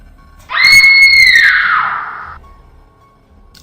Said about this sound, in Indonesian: tiba-tiba menjerit sangat keras.